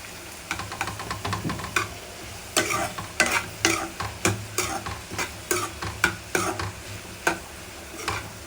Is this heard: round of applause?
no